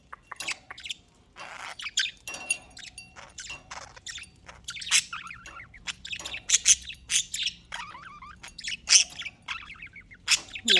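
Pet budgies just after waking in the morning, chirping, tweeting and squawking in busy overlapping bursts, close and lively throughout with no pauses.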